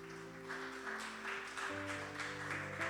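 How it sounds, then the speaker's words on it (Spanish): Church congregation applause during a Spanish-language sermon, soft rhythmic clapping under sustained organ or keyboard chords, faint and steady. "Dale un fuerte aplauso al Señor,"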